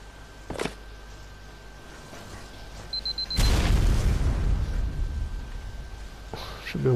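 A rocket explodes during a base raid in Ark Survival Evolved: a single loud, deep boom erupts partway through and rumbles on for several seconds. A sharper, fainter pop comes earlier, and a low background drone runs throughout.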